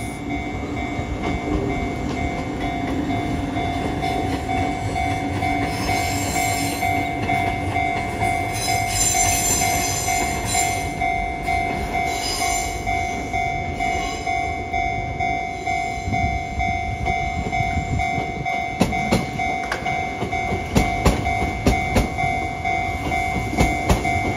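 A semi-express train with a sightseeing train coupled on pulls away, sending a steady loud rumble of running rail noise throughout and a faint rhythmic clatter toward the end.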